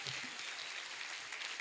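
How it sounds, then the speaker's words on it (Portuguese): A church congregation at an Easter musical applauds Jesus in a continuous, even wash of many hands clapping together, soft and steady with no single claps standing out. "Vamos aplaudir Jesus?"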